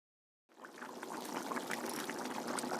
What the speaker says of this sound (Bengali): তো রাখার পর দেখো এখানে আমি এখন জল দিয়ে দিলাম